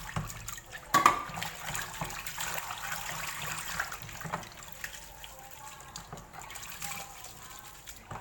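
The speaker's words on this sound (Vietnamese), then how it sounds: "Mình đi rửa phổ tai." Kelp seaweed is rinsed in water in a home kitchen, with faint sloshing, splashing and running-water sounds and a brief louder splash near the start, heard close and alone.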